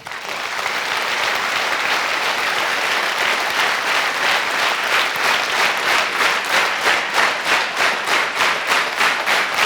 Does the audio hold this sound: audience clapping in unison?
yes